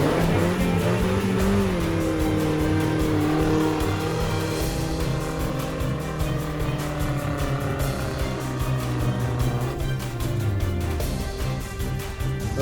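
An off-road car revs hard, its engine straining and rising and falling in pitch as it struggles up a steep, slippery, rocky incline. The engine stays loud and close the whole time.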